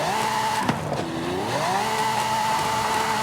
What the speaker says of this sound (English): this is powered by a Lamborghini Aventador V12